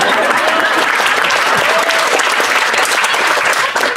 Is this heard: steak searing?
no